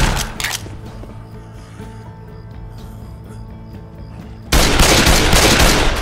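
Left 4 Dead 2 gunfire in the swamp plantation level: a few sharp shots at the start, a quieter stretch of game ambience, then a sudden loud, sustained burst of rapid automatic fire near the end.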